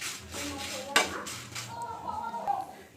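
Bisi bele bath spices dry-roast in a pan, a metal spatula scraping and clinking against it in short strokes, close and moderately loud.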